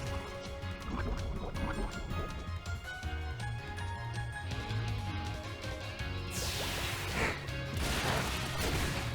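In a Pokémon battle, the Toxic move effect plays as bubbling, dripping liquid sounds layered over steady background battle music, growing into a splashy burst near the end.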